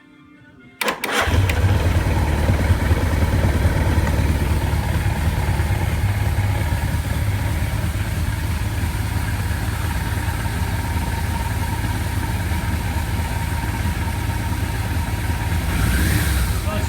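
A 1981 Suzuki GS850 motorcycle engine with electrical problems fires up after a brief pause, then settles into a loud, steady idle around 1,200 RPM close by, rumbling evenly with no voices.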